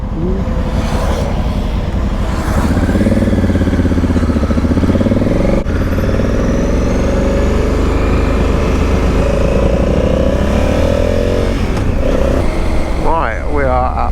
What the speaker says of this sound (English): More bikes coming.